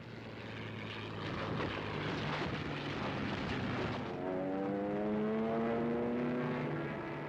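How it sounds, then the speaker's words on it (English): Propeller-driven military aircraft from the early war era, such as a PBY Catalina flying boat, drone steadily and loudly throughout, with the engine pitch rising into a sweeping harmonic whine in the last few seconds. "The age of the carrier aircraft has arrived."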